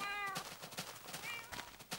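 Several cats meow in Minecraft, short high-pitched calls at the start and again midway, backed by game noise and quick sharp bursts, all fairly faint.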